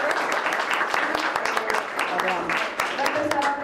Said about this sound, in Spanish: Démosle un fuerte aplauso también a los participantes.